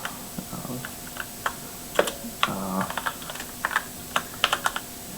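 Code being typed on a computer keyboard while writing a simple C++ hello world program, with irregular bursts of close, crisp key clicks and brief pauses, and no talking.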